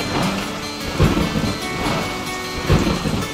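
Cartoon heavy rain pouring steadily, with low rumbling thunder swelling twice beneath the constant hiss.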